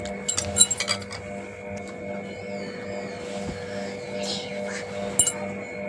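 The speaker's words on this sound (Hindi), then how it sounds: "तो यहाँ पर हमने गिलास रख लिए हैं।" Drinking glasses are set down on a surface, giving several bright clinks near the start and again near the end over a steady low hum.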